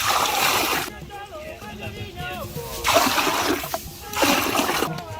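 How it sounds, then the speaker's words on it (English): Water splashes and sloshes into a cooking pot while an asana corn drink is being made, with pouring bursts at the start, middle and end and a voice speaking between them. "New water has been added."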